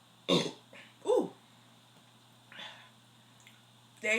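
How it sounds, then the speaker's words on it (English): A person burps loudly several times while eating, with two strong belches early on followed by quieter ones and a final loud burp, close up in a quiet room. "You got the burping challenge out of me."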